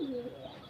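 A single native pigeon gives a short, low coo on a rooftop, close and clear against a faint background.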